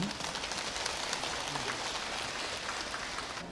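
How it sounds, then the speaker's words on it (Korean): A large audience at the Busan International Buddhist Expo applauds a choir with steady, dense clapping that sounds like rain and keeps up throughout. "금소리 합창단 참여하신 모든 분들께 우리 박수 한번 보내주세요"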